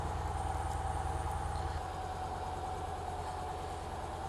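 A Victory Cross Country Tour motorcycle idles at low volume after starting, a soft, even rhythmic engine pulse that continues steadily throughout.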